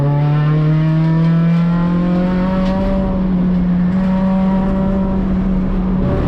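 An Acura RSX race car's engine screams loudly from on board on track, with rising revs that drop and climb again through gear shifts under braking into a corner.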